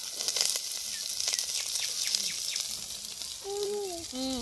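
Onion, green chilli, curry leaves and garlic frying in hot oil in a village kitchen, a bright continuous sizzle with crackling pops, and a few bird chirps rising near the end.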